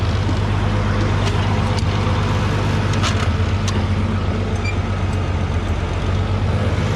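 A 1960s hay baler works steadily through straw, producing a constant loud mechanical drone with faint intermittent clicks and knocks and no talking.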